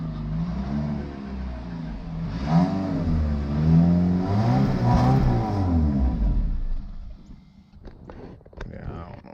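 Chevy Cavalier engine running and revving, its pitch climbing and falling through a few swells before dropping back to a rough idle, with a person talking over it.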